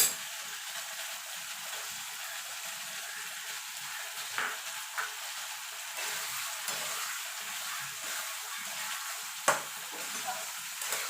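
Ridge gourd with poppy-seed and mustard paste cooking in a pan, a soft continuous sizzle and bubbling with a few distinct utensil knocks and stirs, close and fairly quiet.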